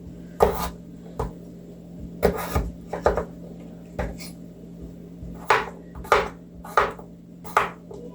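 A heavy knife chopping potatoes on a board, irregular loud thuds and short scraping strokes, some in quick clusters, separated by quiet gaps under a low steady hum.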